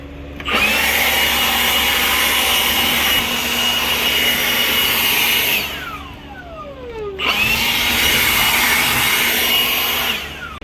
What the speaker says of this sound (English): I'm going to use the leaf blower as a leaf blower.